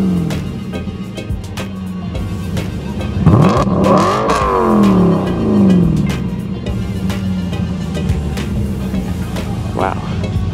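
A V8 4-litre car at a supercar and modified car charity show revs loudly and close, engine note rising and falling in swells over a steady crowd murmur, with people talking nearby.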